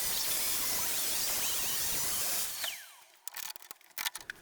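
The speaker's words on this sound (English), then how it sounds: "make the first long cut" A saw makes a long rip cut through a pine rail, a steady rasping drone for about two and a half seconds before stopping, followed by a few sharp knocks and handling clicks.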